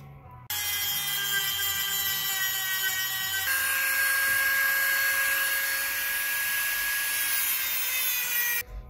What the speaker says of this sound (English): So all this jagged stuff, this is like a little knife right here. We got to Dremel that out.